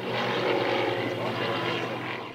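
Small experimental aircraft with an electric motor flying at a Pécs aircraft factory topping-out ceremony, a steady droning hum with a low propeller buzz that stays loud and constant throughout.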